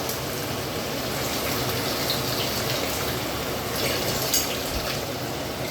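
Water pours steadily into leftover sauce in a cooking pan, a continuous gushing splash, close and even throughout.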